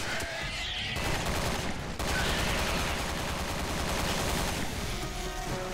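Dense, continuous automatic gunfire from Resident Evil 6 rattles loudly and without pause, rapid shots blending into a sustained barrage.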